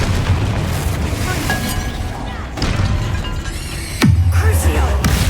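Confringo blast spells in a Harry Potter video game, with a deep booming explosion near the four-second mark over dense, continuous game effects and crackling bursts.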